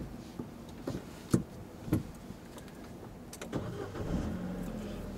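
A car engine runs low and steady while a learner driver works the clutch during a lesson, with several short knocks and thumps and a faint rise in engine rumble toward the end.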